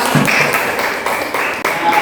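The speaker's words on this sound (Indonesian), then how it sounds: "Kita beri tepuk tangan" A group of students in a classroom applauds together, a dense, fairly loud burst of clapping that carries on steadily for about two seconds.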